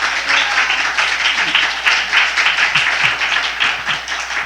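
A church congregation applauds warmly to welcome a pastor to the pulpit during a Korean Sunday service, steady dense clapping filling the whole stretch at a lively, even level.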